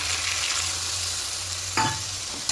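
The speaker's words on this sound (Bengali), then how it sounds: "এবার এখানে জলটা দিয়ে দেবো, পোস্তের বাটি দিয়ে জলটা দেবো" Water is poured into sizzling poppy seed paste in a pan while cooking a cauliflower and potato posto, a steady loud fry hiss broken by a sudden splash and bubbling surge near the end.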